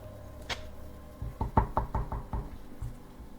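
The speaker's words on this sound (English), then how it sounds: "We hear someone knocking on either the door or the window" Knocking on a door or window in a Roblox horror game, a quick run of five or six dull raps, moderately close, over low background hum.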